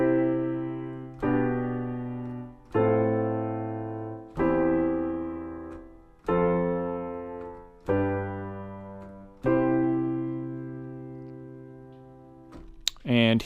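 A simple chord progression with a smooth bass line is played on a piano-like instrument. There are about seven evenly spaced struck chords, each ringing and decaying, clear and alone.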